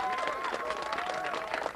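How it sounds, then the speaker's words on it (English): Applause from a student audience at Columbia during a debate over Ahmadinejad speaking on campus, a dense, steady burst of many hands clapping together, filling the room for under two seconds. "applaud now."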